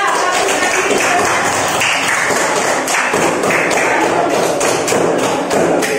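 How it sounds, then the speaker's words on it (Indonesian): A classroom group claps for a presenting team, a dense run of hand claps and thumps lasting several seconds at close range. "tepuk tangan untuk kelompok 2"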